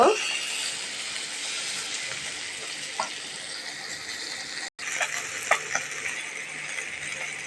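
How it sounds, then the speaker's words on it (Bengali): A continuous sizzling hiss of bata fish frying in a pan, with a few sharp pops and faint clinks, briefly cutting out midway. "মাছগুলা এক সাইড ভাজা হয়ে গিয়েছে, এখন আমি উল্টিয়ে দেব।"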